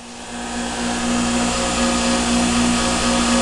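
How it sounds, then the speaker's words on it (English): Steady loud droning whine of a power grinder working the initial grind on a kunai blade, rising slightly at the start and then holding constant, with no voices. "get your initial grind off that"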